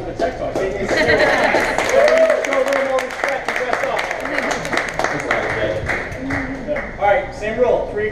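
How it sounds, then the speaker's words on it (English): Audience at a tech talk gives a round of applause mixed with crowd chatter and voices talking over it, the clapping uneven and moderately loud throughout. "can we get a round of applause for dressing up for the tech talk?"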